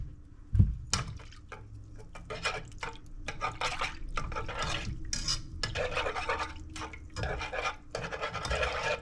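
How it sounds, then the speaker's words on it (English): Salt, garlic powder and dried mustard whisked by hand in a bowl: a sharp knock at the start, then rapid rhythmic metallic scraping strokes in bursts, close and clear. "I'm going to give that a whisk real quick"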